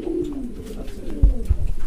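Racing pigeons coo softly at a pigeon farm in Khulna, a low throaty burbling that rises and falls over about two seconds, close by, with a couple of dull thumps near the end.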